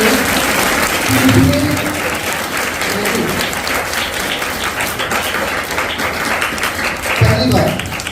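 A group of students applauding at a school programme, sustained loud clapping throughout while an adult voice talks over it.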